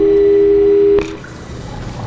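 Telephone dialing in the video game Portal 2: a loud steady dial tone holds for about a second, then a sharp click cuts it off, leaving a faint hiss.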